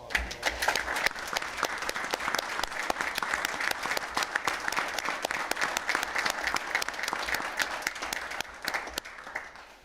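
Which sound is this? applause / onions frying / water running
applause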